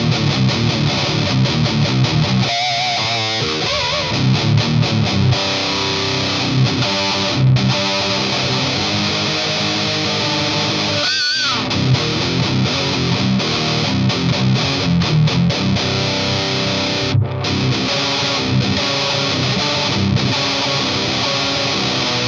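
Electric guitar driven through a TC Electronic Fangs Metal Distortion pedal, a thick, loud, continuous distorted tone with dense chugging riffs, brief pauses and a few higher squealing notes.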